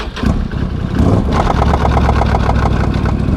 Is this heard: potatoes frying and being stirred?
no